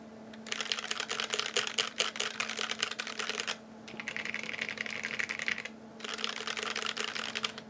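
Fast, steady typing on an Idobao ID80 mechanical keyboard fitted with nylon KS3 switches and GMK Hamon keycaps, close up and alone, in three long runs of dense clacking with short pauses between them.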